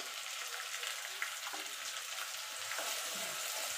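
Spiced, whisked sour yogurt added to chilli and ginger frying in a pan, then stirred, giving a faint steady hiss with occasional soft clunks of the spoon, quiet and close, with no talking.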